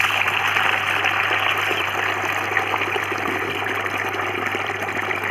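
Continuous rushing, gushing water as an animal swims and bathes, loud and close throughout with a steady low hum beneath and no talking.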